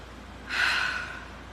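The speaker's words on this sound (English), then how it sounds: "One more nice deep breath." One slow deep inhalation through the nose, close and breathy, rising and then fading over about a second in a quiet room.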